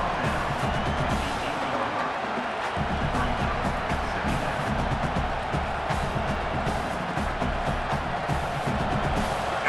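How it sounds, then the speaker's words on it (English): Stadium crowd noise in a College Football 27 game between Oklahoma and Michigan: a steady roar of cheering and whooping that swells as the defense tries for a stop, continuous throughout with no talk over it. "this crowd coming to life here, trying to help the defense get a stop with the offense pinned back"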